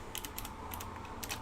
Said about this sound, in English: But sorry, I'm just typing.